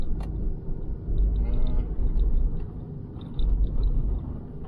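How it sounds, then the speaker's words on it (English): A four-wheel-drive vehicle crawls along a rough off-road track, its engine a steady close rumble that swells and eases in low surges, with no talk over it. "we're doing a bit of four-wheel driving, proper four-wheel driving"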